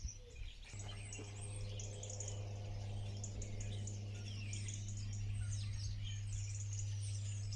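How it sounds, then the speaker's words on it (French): Birds chirp continuously outdoors, many small high tweets and trills layered over a steady low engine-like hum, fairly faint, with no speech. "Après les oiseaux qui sont en continu"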